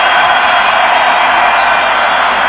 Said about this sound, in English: that's really brought the crowd to life